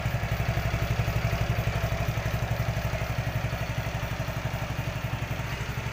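A Suzuki Address scooter engine warms up at idle, a steady, fast, even putter with a slight clatter, close and continuous, with no voices.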